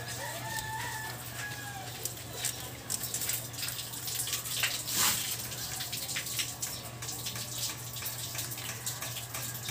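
Water runs steadily into a car radiator while the cooling system is bled for an overheating problem. A soft, continuous trickle is joined by a brief louder splash midway, with a faint rooster crowing in the background.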